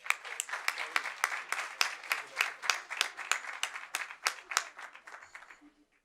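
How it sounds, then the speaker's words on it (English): An audience at a board meeting gives a modest round of applause for an award presentation, individual claps distinct and uneven, fading out toward the end. "Round of applause, please."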